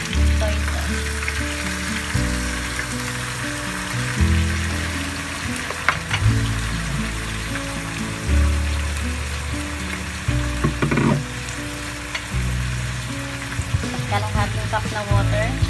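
Milkfish fries in a pan with soy sauce, a close, continuous sizzle with bursts of crackling and occasional stirring and liquid sounds.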